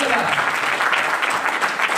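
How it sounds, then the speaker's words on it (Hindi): An audience claps in a dense, steady patter at a business success meeting, with speech faintly mixed in. "ताली बजनी चाहिए"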